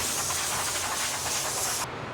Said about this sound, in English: immediately follow that up with the anti-stack gun